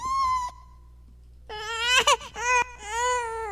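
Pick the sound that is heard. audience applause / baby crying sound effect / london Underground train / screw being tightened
baby crying sound effect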